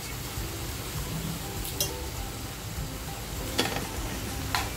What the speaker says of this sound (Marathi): आता जे मटण शिजवून घेतलंय आपण ते मटण याच्यामध्ये टाकायचे